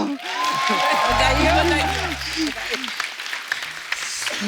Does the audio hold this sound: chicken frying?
no